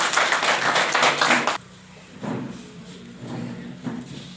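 A crowd at a school event claps together for about a second and a half to welcome a guest onto the stage. The applause then cuts off and is followed by a few faint, scattered taps and thumps.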